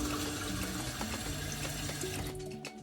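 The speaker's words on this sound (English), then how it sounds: "this is the water which I'm going to put" Water pours into wheat pasta dough during home cooking, a steady close splashing stream that runs for a couple of seconds with faint tonal hum beneath, then thins out and trails off.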